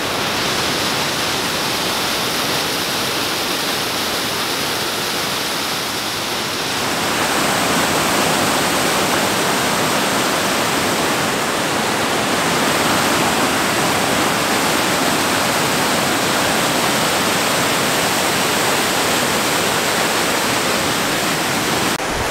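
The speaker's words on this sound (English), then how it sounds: "that right there is where the waterfall begins" A waterfall on a creek gives a loud, steady, broadband roar of rushing water close by, with a slight swell in intensity partway through and no voices.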